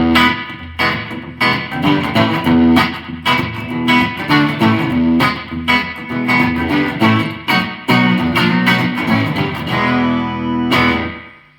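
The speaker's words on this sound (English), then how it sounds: "I really do like the slap back you get from Echo 1 and Repeat B." An HH Electronic Digital Multi Echo unit puts a short slapback echo on a distorted, effects-heavy guitar, heard as loud, continuous chordal playing with quick repeating attacks and no talking.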